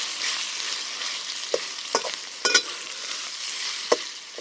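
Beef and pasta stir fry sizzling steadily in smoking-hot oil, a constant frying hiss with a few sharp pops and spatters, close and fairly loud with no talking.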